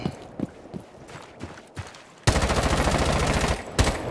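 Hibana's gun in Rainbow Six Siege, scattered footsteps and clatter giving way to a loud continuous burst of rapid automatic fire, close and dominant, with a final shot at the end.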